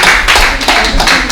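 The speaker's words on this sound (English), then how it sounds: "A round of applause for you." A round of applause at a reality TV show event, a short burst of dense clapping from several hands, close and loud throughout.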